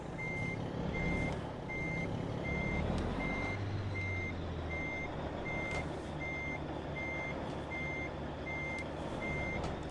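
Reversing alarm of a Mack R truck in American Truck Simulator, a steady evenly spaced beep repeating through the whole stretch over a low rumbling engine idle, with no talk.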